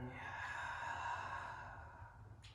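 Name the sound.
deep exhale through the open mouth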